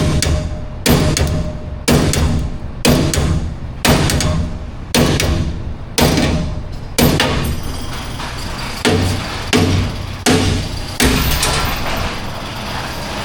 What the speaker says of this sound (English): Hammer that down.